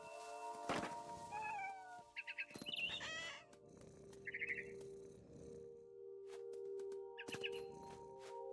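A cat meows several times in the video game What Remains of Edith Finch. The short, high meows come in bursts over steady game music and ambience, with a few dull thumps between them.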